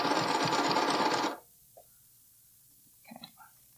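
A sewing machine stitching a bralette runs in a fast, buzzing burst for just over a second and then stops, followed by near silence and a few faint handling clicks and soft rustles.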